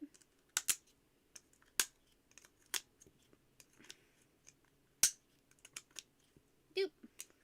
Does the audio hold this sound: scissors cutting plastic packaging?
yes